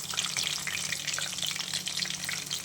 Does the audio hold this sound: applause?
no